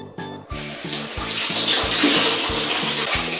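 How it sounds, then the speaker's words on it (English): Tap water splashes steadily into the insides of shoes being rinsed, a continuous loud close hiss and splatter after a brief start, with a low rhythmic pulsing underneath. "I'll rinse the shoes now with the water."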